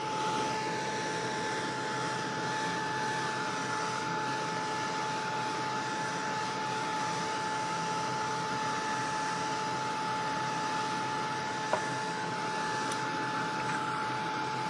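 A drying tool blows steadily to dry ink on an artist trading card, giving a continuous, even whooshing hiss that stays close and unbroken throughout.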